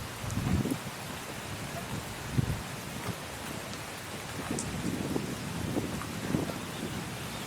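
Steady light rain falling outdoors, a continuous soft hiss with gentle low rumbles and some wind buffeting the microphone, no voices.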